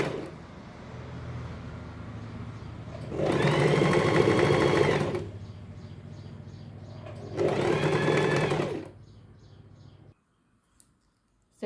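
A sewing machine stitches strips onto a blouse in two loud bursts of rapid needle chatter, separated by a softer low hum, before stopping into near silence.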